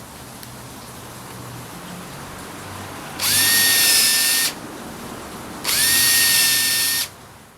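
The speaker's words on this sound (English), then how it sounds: "we need to pre-drill a 5/32 inch hole for each wood screw" A power drill pre-drilling 5/32 inch holes in a wooden gate whirs in two bursts of about a second and a half each, spinning up with a rising whine, separated by a short quiet pause.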